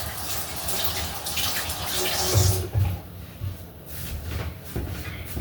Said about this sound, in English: I need to rinse off my hands